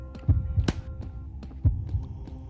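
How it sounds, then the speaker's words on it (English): A heartbeat in the Xbox Live Indie game Demo Friend pulses as a steady series of deep, close thumps over a low hum. "The heartbeat of God pulses as we race around the city"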